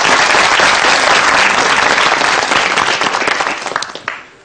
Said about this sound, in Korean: 박수를 한번 쳐보겠습니다